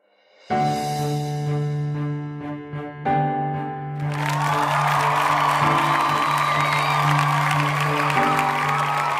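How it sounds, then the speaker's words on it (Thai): Sustained musical tones open, then a large crowd gathered around a field erupts into cheering and applause, a broad, loud roar that carries on under the lingering music. "ได้รับเสียงปรบมือจากประชาชนทั่วทั้งสนาม"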